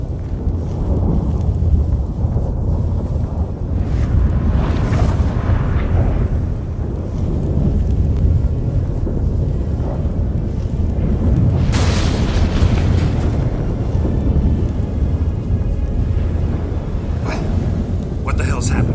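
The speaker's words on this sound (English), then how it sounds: "That a storm?" A thunderstorm in the video game The Witcher 3 gives a loud, continuous deep rumble with rolling booms and a sharp crack of thunder partway through, sustained and close throughout.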